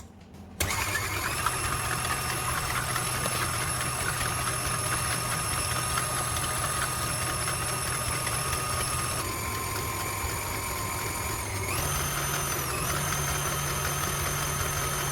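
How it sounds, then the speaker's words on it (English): An electric mixer whisks egg whites for a cloud cake. Its motor whines steadily and close by, with no one speaking, and the pitch shifts twice as the speed changes partway through. "All right, then we start whisking."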